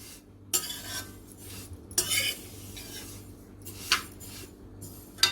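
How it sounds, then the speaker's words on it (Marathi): Sesame seeds roasting in a pan over a medium gas flame, with a spatula scraping and stirring in a few sharp bursts over a faint constant hum, no voices. "मिडियम गॅसवरती तीळ चांगले भाजून घ्यायचे"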